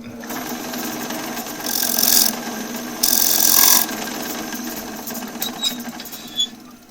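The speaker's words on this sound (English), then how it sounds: "So I want to chamfer the edges a bit." A lathe turns a wooden piece while a tool chamfers its edges, a steady rubbing hum broken by two short, louder bursts of scraping, followed by quieter faint ticks near the end.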